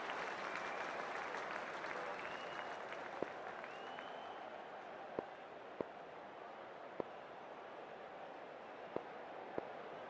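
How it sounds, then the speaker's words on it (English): A stadium crowd at a World Cup cricket match between India and South Africa keeps up a dense, steady roar of applause and cheering, distant and even, with a few sharp knocks over it. "it's a loud crowd as the players make their way out"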